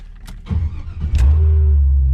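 A 1989 Chevrolet Caprice with an LS engine swap pulls away, its idle swelling into a loud, steady low rumble close by after a few brief knocks and clunks.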